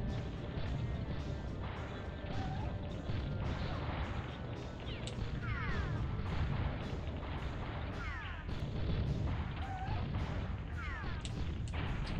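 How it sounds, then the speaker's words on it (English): Tank gunfire in the N64 game BattleTanx: Global Assault: repeated loud shots and crashing impacts break out over a constant engine rumble, with several sharp bursts spread across the stretch. "I can't even tell where I'm being shot from."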